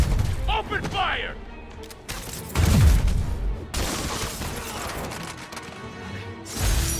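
Marvel's Spider-Man gunfire comes as scattered bursts and crashes during a fight, mixed with impact booms and brief voices calling out over the action.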